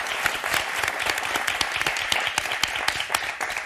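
A studio audience at a French television game show applauds the contestants, a dense burst of many hands clapping steadily and loudly throughout.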